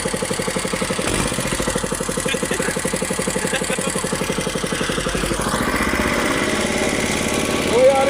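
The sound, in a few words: boat engine revving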